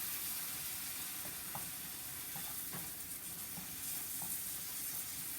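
Tomato sizzling in a pan over high heat, a steady close frying hiss with small pops and crackles running throughout, no voices.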